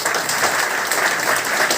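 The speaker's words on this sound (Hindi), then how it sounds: "एक बार जोरदार ताली" Sustained audience applause fills a seminar hall in Jabalpur, a dense, steady wash of many hands clapping at close range with no pauses.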